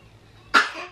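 A single short sneeze from a small child in a high chair, a sudden sharp burst near the end of an otherwise quiet second.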